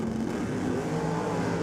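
Nitro drag racing car at the Gulf Western Oil Nitro Champs, a Falcon with a Lenco gearbox, roaring steadily and loudly throughout with a dense engine drone, no pauses and no voices.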